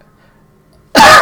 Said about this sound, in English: This cough is getting bad